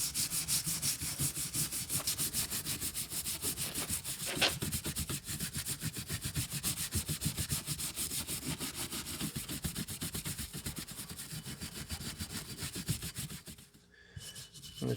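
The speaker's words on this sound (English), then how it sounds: "let's see what a soft bristle brush does to it" Soft bristle brush scrubbing rust off a vintage Boy Scout hatchet, a rapid, continuous scratchy rubbing that keeps an even rhythm, then a short pause near the end before it resumes.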